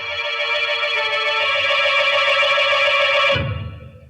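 A telephone bell rings steadily for over three seconds in an old radio mystery drama, loud and close, then cuts off abruptly with a low thump as the receiver is lifted.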